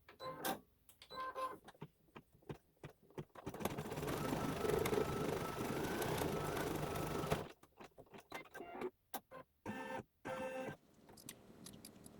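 Embroidery machine running a tack-down stitch on a Santa's Workshop quilt block, with a steady, loud mechanical whir for several seconds, surrounded by shorter start-stop bursts of stitching and brief pauses.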